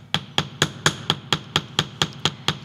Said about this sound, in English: you can use it like we did for the rings and hammer right on top